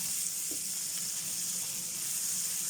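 Onions sauté in olive oil in a pan, giving a steady, even sizzle throughout with an occasional faint clink, fairly quiet and close, no talking.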